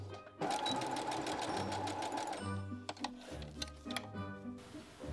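A sewing machine stitches grosgrain ribbon onto the edges of a handmade witch hat, starting with a fast, steady whirring run and then breaking into shorter stuttering bursts of needle clatter.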